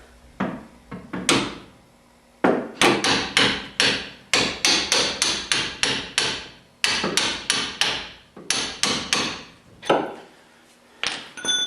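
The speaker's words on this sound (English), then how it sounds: "take your punch, put it in the middle of that bolt, and again, don't hammer on this thing, but just tap it" A hammer taps a punch to drive a bolt out, close, sharp metallic knocks in quick bursts of several strikes separated by brief pauses.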